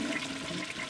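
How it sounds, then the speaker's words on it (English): Toilet flush in the Darkside Detective video game: a brief, soft whoosh of rushing water, steady and close, with no speech. "Flush."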